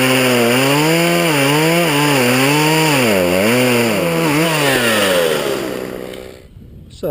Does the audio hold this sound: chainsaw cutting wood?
yes